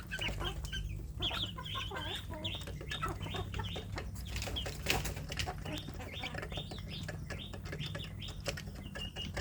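Free-range village chickens and young roosters cluck and chatter in a busy, close flock, with repeated short calls and occasional wing flaps over steady background noise.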